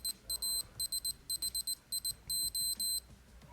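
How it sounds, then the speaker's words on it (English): A Casio G-Shock DW-8800 digital watch with a 1443 module beeps out a Morse code pattern in short and long bursts, the tones steady and fairly faint over a low background hum. "quickly press this music logo. Now it will beep."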